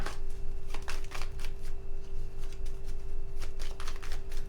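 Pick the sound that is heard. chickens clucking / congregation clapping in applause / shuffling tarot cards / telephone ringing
shuffling tarot cards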